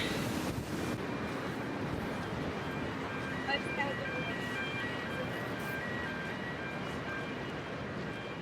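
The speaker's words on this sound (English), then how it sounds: "the wind is really picking up" Strong wind buffets the microphone in Ushuaia, a steady roaring rush that fills the scene, with faint tonal sounds and possible distant voices underneath.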